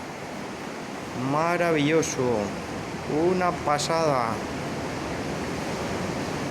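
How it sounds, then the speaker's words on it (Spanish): Surf roars steadily from a sea cave near Llanes, Asturias, a broad continuous wash of waves under two bursts of nearby talk. "No se escucha ahora el mar, rugiendo."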